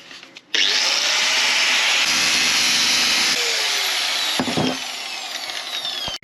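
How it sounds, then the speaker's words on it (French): A power tool cuts a metal tube in two. It starts abruptly with a loud, continuous, harsh grinding whine that holds steady for several seconds, eases off slightly, then cuts out. "On va déjà se couper ce tube là en deux."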